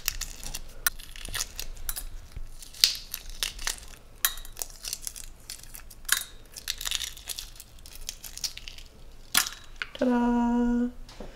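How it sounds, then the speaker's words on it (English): Shell cracking and peeling off a boiled egg cooked in an Instant Pot pressure cooker: close, crinkly crackles and small crunching snaps spread through the clip, with a brief steady tone near the end. "pressure cooker eggs, look, peeling nicely"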